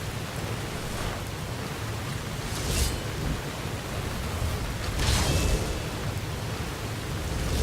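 Steady rainfall in the video game Skyrim pours as a continuous broadband wash, with a couple of brief swells that hint at distant thunder rumbling beneath the downpour.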